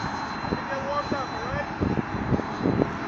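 An FF-22 EDF model jet driven by a Detrum 64mm fan on a 4S setup flies outdoors, its ducted-fan whine rising and shifting in pitch during passes, heard steadily at a distance with occasional wind and handling noise.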